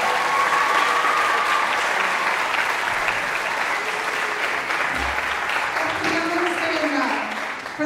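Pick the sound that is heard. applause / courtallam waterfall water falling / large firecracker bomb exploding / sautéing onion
applause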